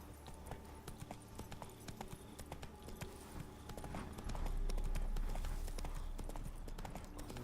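A horse's hooves trot in the video game The Witcher 3: Blood and Wine, making a steady, brisk clip-clop that runs throughout and grows heavier toward the end.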